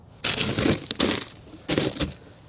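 Brittle carbonized gourds are crushed up close, giving three sharp crunching, crackling bursts in quick succession, loud and dry with short pauses between.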